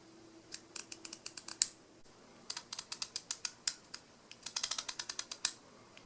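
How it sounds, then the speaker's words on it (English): Samigon 28mm f2.8 MC manual lens on a Sony A6000, its six-blade aperture ring clicking through the stops from f2.8 to f22, two quick runs of close, crisp mechanical detents separated by a short pause. "why don't you have a listen to the aperture opening and closing?"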